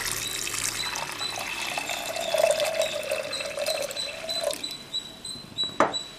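Water pours from a tap or jug into a pot of cooked dal for sambar, a steady close pouring stream that rises in pitch as the vessel fills, then stops with a couple of small clinks near the end.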